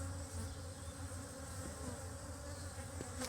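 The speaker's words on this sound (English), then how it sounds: "So a lot of bees inside here." A dense, continuous buzzing of many honey bees inside a hive's brood box fills the air, steady and close, with a low hum underneath.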